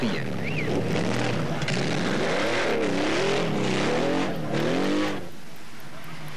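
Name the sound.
factory Porsche rally cars racing, Paris-Dakar 1985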